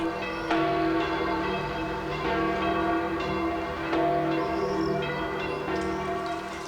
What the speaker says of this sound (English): He presented St. Peter's with a huge bell